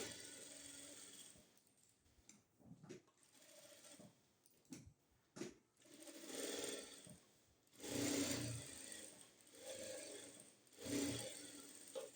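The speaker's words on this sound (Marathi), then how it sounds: "बरोबर असा फोल्ड करून इथून एक शिलाई मारून घ्यायची" Domestic sewing machine stitching a folded seam on a princess-cut blouse, running in several separate bursts of steady mechanical whirring and needle chatter with short pauses between, no talk.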